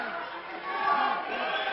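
Wrestling crowd inside an arena hall, a steady wash of murmuring and calling voices that swells slightly midway, with indistinct shouts rising over the general din.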